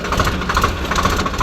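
A Swaraj 855 FE tractor engine running in a field, a steady low diesel throb with rhythmic knocking pulses, close and fairly loud, no talking.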